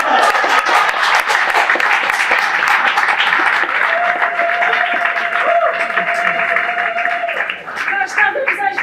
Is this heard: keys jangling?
no